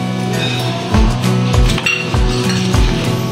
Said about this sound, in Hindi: मैं बर्फ़ डाल ली हूँ